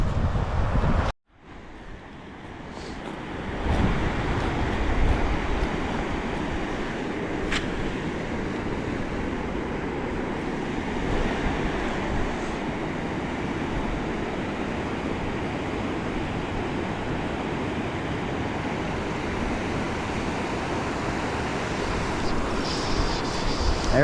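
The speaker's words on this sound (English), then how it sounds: "It's a little windier, so it might change, but we'll see." Steady wind blusters across a river for over twenty seconds, a continuous rushing roar with buffeting against the microphone, after a brief silent gap at the start.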